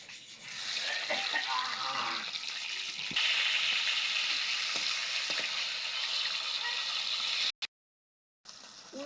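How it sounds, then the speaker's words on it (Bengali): Hilsa fish heads fry in hot mustard oil in a kadai, giving a steady, bright sizzle and spatter with occasional stirring clinks, fairly close and continuous before a brief gap of silence near the end. "ইলিশ মাছের মাথা ভেজে নিব।"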